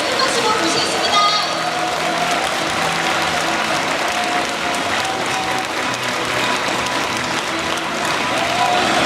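Loud, sustained applause from a seminar audience welcoming a speaker on stage, dense clapping continuing steadily for about nine seconds with a faint murmur of voices mixed in.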